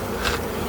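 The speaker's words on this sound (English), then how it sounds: "we just got done installing the bees" Honey bees freshly installed in a new hive give off a dense, continuous buzzing hum, close and steady, with no voices over it.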